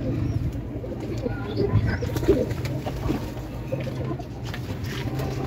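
Pigeons coo in a low, continuous chorus, close by, in a home loft where they are being shut in, with faint rustling and light patter among them.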